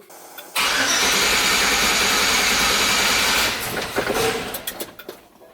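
An LS-swapped Chevrolet C10 with a Holley Terminator X and a cam/crank issue cranks and fires up, roaring loudly close by before settling and fading with uneven revs.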